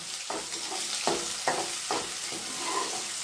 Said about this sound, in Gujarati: એને આપણે બરાબર આમ સાંતળી લઈશું